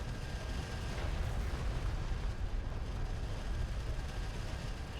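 Railgun fire and explosions from the real-time strategy game Homeworld: Deserts of Kharak form a dense, continuous battle rumble of blasts and rapid impacts, loud and sustained throughout without voices.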